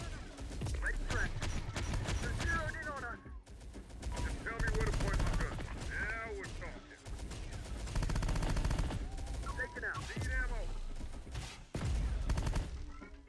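Rapid Gatling gun fire in the video game Terminator Dark Fate: Defiance, loud sustained bursts with brief pauses between volleys, mixed with game music and effects.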